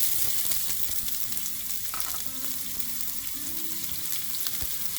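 Sliced shallot sizzles in hot oil with mustard and fenugreek seeds for a garlic curry, a steady close-up frying hiss with scattered pops and stirring scrapes, continuous and without voices.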